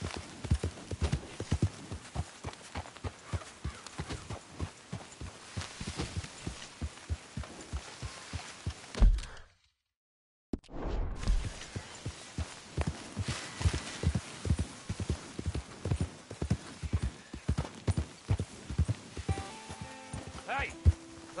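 Horse hooves galloping in Red Dead Redemption 2, a fast rhythmic clip-clop close by that runs steadily, drops out briefly in the middle, then resumes.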